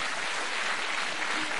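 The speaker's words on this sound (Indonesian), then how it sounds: "tepuk tangan nih buat Pak Suparto" Audience applause at a gathering honoring a tailor of Jokowi's clothes, a steady dense wash of clapping sustained evenly for the whole short stretch, with no break.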